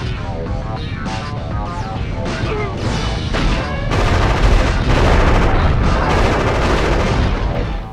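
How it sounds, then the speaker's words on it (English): Minigun fire in the video game Future Cop LAPD: dense, continuous rapid gunfire with heavy booms and crashing impacts, loud and close throughout and growing even heavier toward the end. "I'm loving this minigun upgrade. It just sounds so good."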